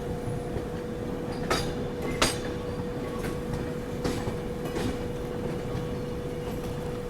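A train crosses the diamond rail crossing at Nagpur, giving a steady low rumble of wheels on track with a constant tone overhead and a few sharp clanks as the wheels strike the crossing joints, sustained throughout.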